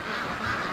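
A brief burst of duck quacking, several birds calling over one another at close range.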